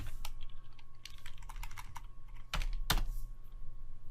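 Rapid typing on a computer keyboard, a steady run of close, crisp key clicks with two louder strikes near the end, no talking.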